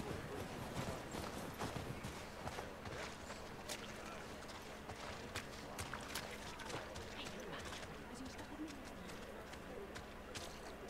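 Horse hooves clip-clop steadily in The Last of Us Part II, with a soft scatter of birdsong and cooing pigeons or doves mixed in under a continuous game ambience.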